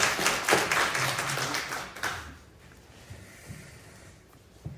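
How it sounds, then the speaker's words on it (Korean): A church congregation at a Sunday service claps in a dense, fairly loud burst for about two seconds, then the clapping dies away into quiet room tone with a few faint taps. "다시 한번 박수하시죠."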